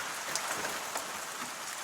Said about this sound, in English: Wait for the rain, maybe.